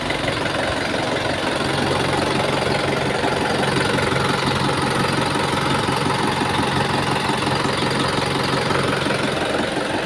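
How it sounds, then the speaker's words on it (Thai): A car engine idles with the radiator fan running after a new radiator was fitted, a loud, steady close-up drone with a continuous rushing whir of the fan and no talk. "พัดลมทำงานปกติเสียงเครื่องยนต์ปกติ"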